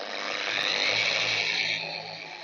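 A dual action polisher runs continuously on a car panel, a steady close mechanical whir with a broad buffing hiss that swells slightly and then eases, with no talking.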